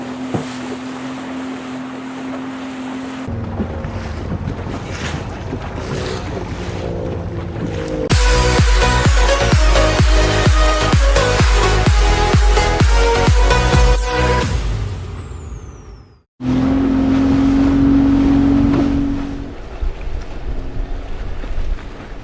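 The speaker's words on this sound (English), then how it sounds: "this water taxi ride is actually cooling me down a bit" A water taxi's engine drones steadily with wind buffeting and water rushing, growing louder for a long stretch before a brief cut and a return, at Kampong Ayer, Brunei.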